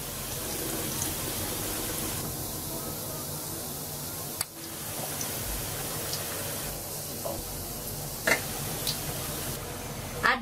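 Ghee sizzles in a pan with onions frying to a deep golden beresta for Bangladeshi khichuri, a steady close hiss and crackle with a few brief clinks near the end.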